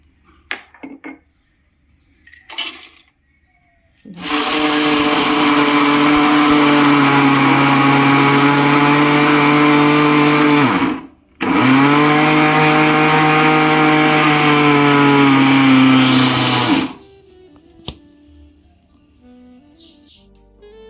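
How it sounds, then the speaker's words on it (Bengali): An electric kitchen grinder pulverizing almonds and cashew nuts, running in two long, loud whirring bursts separated by a brief stop, with quiet handling clatter before and after. "কিছু বাদাম আর কাজু বাদাম নিয়েছি এখন এগুলো একটু পিষে নিচ্ছি"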